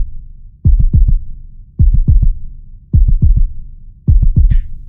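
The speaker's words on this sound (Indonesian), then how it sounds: "sampai gue bisa dengar suara detak jantung gue sendiri" A heartbeat sound effect in a horror story, loud close lub-dub thumps in four evenly spaced clusters, each a quick series of deep pulses against silence.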